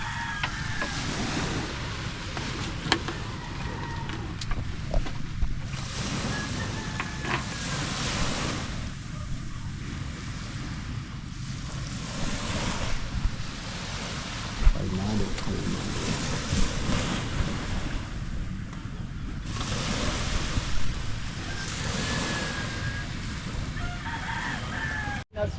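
Calm sea waves washing onto a beach give a steady, continuous surf roar with gentle swells and wind, heard alone, with faint rooster calls in the distance.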